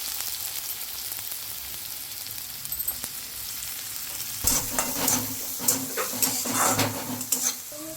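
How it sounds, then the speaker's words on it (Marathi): Chopped onion drops into hot oil for Schezwan rice, starting a low hiss that swells abruptly into loud, crackling sizzling with stirring clatter close by, with no talking. "कांदा टाकून घेऊ"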